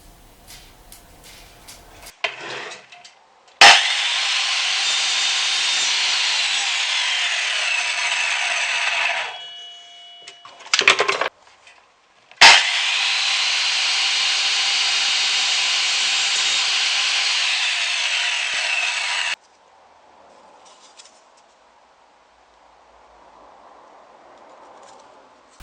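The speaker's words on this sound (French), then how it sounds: "on va passer à la scie" A saw cutting through wood while making an adjustable wooden gauge in a workshop, two long loud steady passes with brief pauses and clatter between, ending in quiet.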